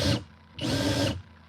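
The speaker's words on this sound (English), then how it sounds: "Let's try that other drill." Power drill running in two bursts, a short spin followed by a longer whine of about half a second, loud and close with a brief gap between, no talk.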